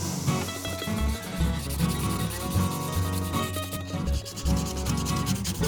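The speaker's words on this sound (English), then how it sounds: "just go over the entire thing with some very fine sandpaper" Fine 800-grit sandpaper rubs over the edges of a guitar pickup in a steady, continuous scratchy sanding, with no talk.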